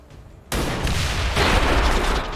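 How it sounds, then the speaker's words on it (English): A sniper's shot setting off a claymore in the video game XCOM 2, a sudden loud burst followed by a sustained roaring blast and a second swell of noise. "Sniper. Shoot the claymore."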